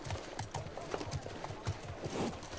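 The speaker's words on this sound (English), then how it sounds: "And the horses are fantastic, aren't they?" Horses in The Last of Us Part 2 clop their hooves in a quick, uneven rhythm on hard ground, fairly close by, with a faint whinny mixed in.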